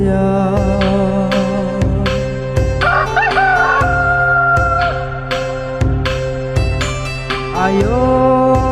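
Repeated rooster-like crowing calls at a festival performance, loud and near, layered over steady rhythmic music with regular percussive beats throughout.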